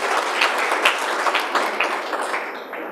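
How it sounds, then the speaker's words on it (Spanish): Audience applause for Otto Guevara, Movimiento Libertario deputy and party caucus leader, at a political forum: dense, steady clapping from a mid-sized crowd, moderately loud and unbroken for the whole stretch. "Un aplauso para don Otto."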